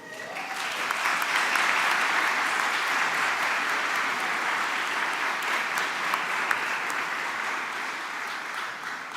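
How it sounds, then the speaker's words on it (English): At a 2022 Faculty of Medicine graduation ceremony, a large audience claps in sustained, even applause for about nine seconds, dense and fairly distant, slowly tapering near the end. "Thank you for special applause for him."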